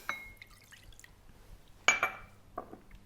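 Lemon juice poured into a glass vessel for a ceviche marinade, heard as a few faint, close splashes and drips, with a sharper splash near the middle.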